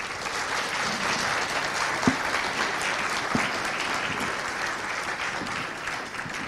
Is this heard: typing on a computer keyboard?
no